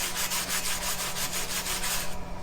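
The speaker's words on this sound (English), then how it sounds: "I'm removing as much of the scaly surface as I can because I want this hook to look nice" A hot forged metal hook scraped to remove scale in a blacksmith shop, heard as a continuous rhythmic rasping of repeated close strokes that stops abruptly near the end.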